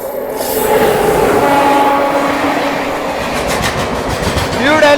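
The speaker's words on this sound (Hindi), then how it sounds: "New Delhi Bhubaneswar Duronto express." New Delhi–Bhubaneswar Duronto Express passing close by with a loud, continuous rumble of wheels on track, a sustained horn tone sounding through it, and a rising horn note near the end.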